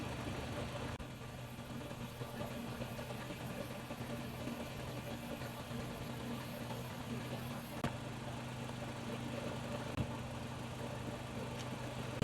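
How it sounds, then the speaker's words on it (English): A polishing machine buffs a car headlight with a low, steady, even drone that runs throughout without breaks and sits fairly faint in the background. "Now buffing and polishing."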